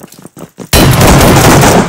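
A sudden loud blast of shotgun fire in PUBG cuts in after a few faint thuds, followed by a dense, sustained roar of gunfire and explosions that stays very loud to the end.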